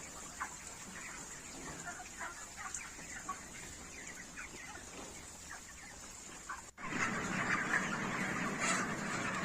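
Chickens on a poultry farm cluck and chatter as a flock, a dense moderately loud murmur of calls that grows louder and fuller in the last few seconds, with steady background noise throughout.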